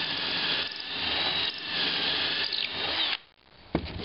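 Power drill boring a pocket hole into a 3/4 inch thick wooden shelf, a loud steady high-pitched whine for about three seconds before cutting out, followed by a short click.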